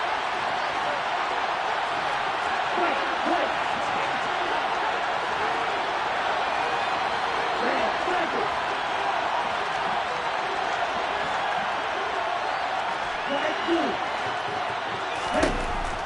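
A football stadium crowd roars steadily ahead of a big third down, a dense, far-off wash of cheering that holds throughout under a commentator's talk.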